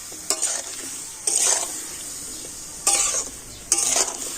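Raw mango with sugar is stirred in a wok, four distinct scraping sweeps of the spatula rising over a low steady sizzle, close and clear with no talking.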